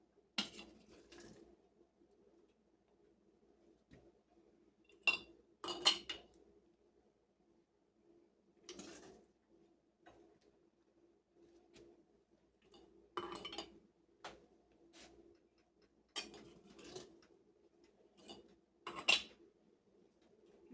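Glass jars clinking as they are filled with vegetables for canning chicken soup base, sparse bright clinks and knocks in small clusters separated by quiet gaps, close and fairly faint.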